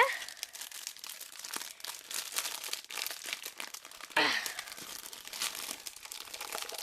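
Plastic packaging of a Lego Ninjago comic crinkles and rustles close by as it is opened, with bursts of crumpling and a sharper tear near the middle.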